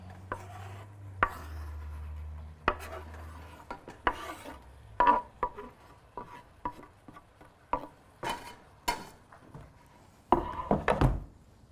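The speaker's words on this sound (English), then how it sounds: "we're going to stir all these guys together in there with the ground turkey" Onions being stirred into browning ground turkey in a pan, heard up close as repeated wooden scrapes and thunks against the pan over a faint sizzle, with no voices.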